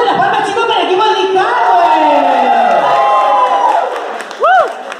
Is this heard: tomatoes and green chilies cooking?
no